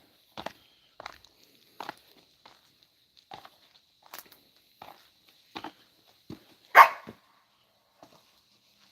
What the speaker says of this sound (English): She's only barking because she can see me.